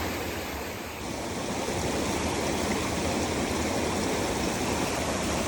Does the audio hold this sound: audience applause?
no